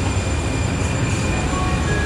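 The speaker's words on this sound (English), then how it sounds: "Let's go see people board the train." A train arriving at a station platform, heard as a loud, steady rumbling roar with faint high whining tones over it, close and continuous throughout.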